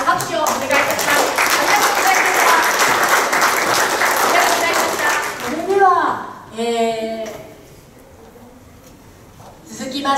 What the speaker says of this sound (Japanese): お見送りの拍手をお願いいたします